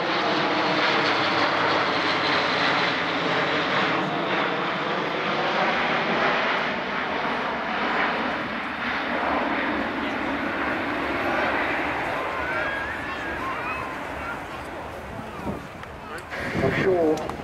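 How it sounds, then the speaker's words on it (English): An Airbus A400M Atlas military transport flies past at an airshow, its turboprop engines droning loud and continuous with a slowly shifting pitch as it passes, while a commentator talks over the engine noise. "test pilots Ed Strongman and Anthony Flynn with the Airbus military A400M, now known as the Atlas."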